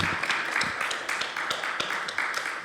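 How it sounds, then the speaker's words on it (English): An audience at a Sunday church service applauds with dense, steady clapping throughout. "And a round of applause."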